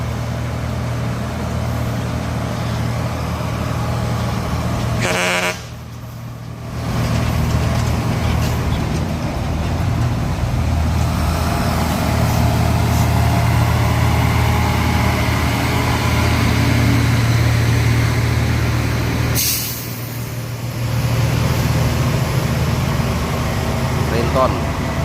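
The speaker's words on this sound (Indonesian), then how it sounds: "Nah, ini ramai truk ya teman-teman" Overloaded old trucks labour up the steep Bukit Kodok hill, making a loud, continuous low engine drone that swells and dips. People talk over the noise.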